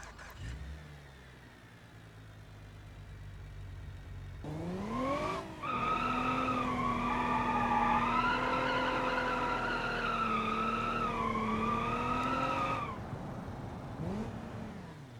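An old ute's engine in a video game cranks and catches, then revs and holds a rising, droning whine for several seconds before dropping back to a lower idle, loud and close with no talking.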